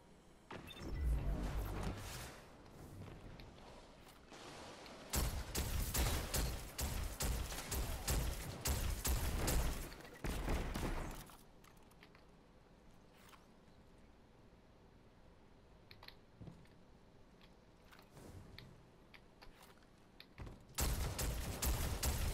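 Gunfire in a shooting video game, loud bursts of rapid shots in two dense stretches with a quieter gap between and a final burst at the end.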